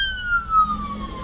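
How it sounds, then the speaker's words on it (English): An ambulance siren passing on the road, a single loud wailing tone gliding steadily downward as the vehicle moves by, over low traffic rumble, with no talk. "Hold on, this ambulance is driving past."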